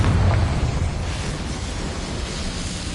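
The Confringo blasting spell in Hogwarts Legacy sets off a loud explosion with a deep, booming rumble. The blast then rolls on as a broad roar that fades slowly over a few seconds.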